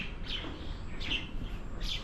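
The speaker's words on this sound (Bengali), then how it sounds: "ময়না ডাকতেছে, বিভিন্ন পাখির কিচির বিচির" Mynas and other birds chirp at midday around an abandoned 1944-45 airfield in Hathazari, Chittagong, giving three short, fairly faint calls spaced about a second apart over a low outdoor hum.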